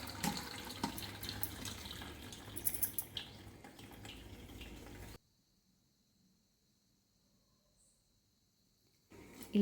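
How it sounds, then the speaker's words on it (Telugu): Cooked dal tipped into a bowl to separate off its water, heard as a steady close pour and trickle of liquid that stops abruptly, leaving near silence before a brief splash returns at the end. "ఇప్పుడు ఈ పప్పుని ఒక తుల్లుల గిన్నెలో వేసి నీటిని సెపరేట్ చేసుకోవాలి"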